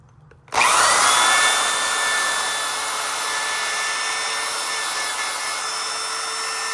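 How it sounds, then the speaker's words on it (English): A power drill with a wire wheel brush spins up suddenly and runs steadily with a high whirring whine and the scratchy hiss of the brush grinding metal around a VW Golf Mk1 front wheel bearing. "I got a drill with a wire wheel on it"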